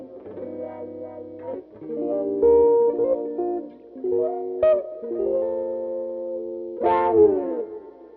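Electric guitar runs through a CASIO Dimension Shifter strap-mounted effects controller, giving sustained, wobbling wah-like and chorus-tinged notes with some distortion, played clean and close with no voices.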